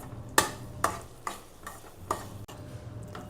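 A spoon scrapes and stirs thick jackfruit chakka varatti in a frying pan, five or six distinct sharp strokes at a steady pace over a soft low sizzle, close up and alone.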